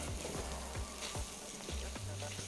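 Mushrooms sauteing in a thin coat of oil in a pot, a steady broadband sizzle with several scraping stirs of a utensil recurring about every half second, close and fairly quiet, no talking.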